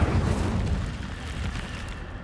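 Incendio fire spell in the video game Hogwarts Legacy: a loud, deep fiery burst at the start that rumbles and slowly fades into a low roar, with no talking.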